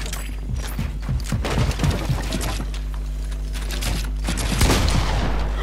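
Rapid gunfire in the video game Fortnite, dense bursts of sharp shots crackling almost continuously for several seconds over a steady low hum, loud and close.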